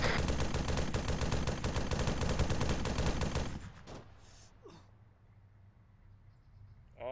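Dense rapid automatic gunfire from a military shooter game in the Arma series, loud and continuous for several seconds, then breaking off into a quieter scene with a few faint, scattered sounds.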